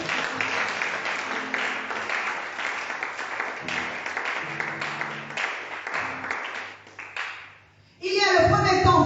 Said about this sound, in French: On acclame le Seigneur très très fort.